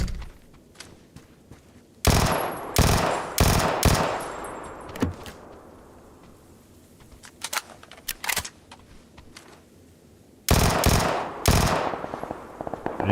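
Automatic weapons fire in a shooter video game comes in loud, rapid bursts, with a few scattered single shots between the volleys, heard close and without talk.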